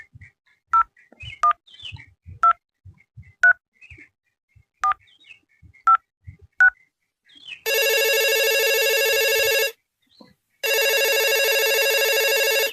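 A telephone is dialed with a run of separate keypad beeps, then rings loudly in two long electronic bursts with a pause between, close and clear.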